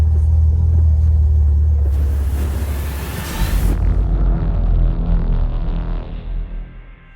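A Ford TE Cortina engine gives a loud, deep rumble while driving, with a brief surge of broader noise midway before settling back into a steady low drone that fades toward the end.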